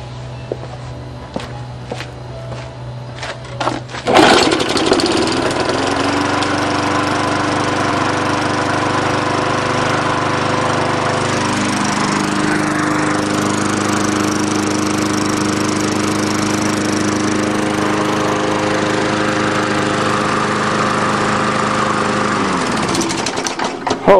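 Tecumseh lawnmower engine: a few quiet knocks, then it starts abruptly at about four seconds and runs at a loud, steady, close drone for about twenty seconds before cutting off at the end.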